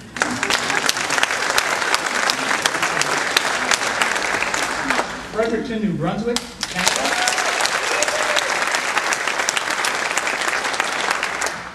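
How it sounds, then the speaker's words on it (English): An awards-ceremony audience claps steadily and loudly throughout, briefly dipping while a presenter reads out a city name over the applause. "You can applaud."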